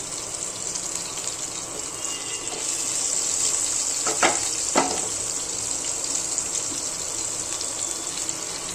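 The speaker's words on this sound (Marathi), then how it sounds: "आता ही कांद्याची पात आहे ना, ही पण तेलामध्ये थोडी फ्राय करून घेते" Spring onion greens frying in oil give a steady, hissing sizzle throughout, with two brief clinks of a utensil in the pan midway, no voices.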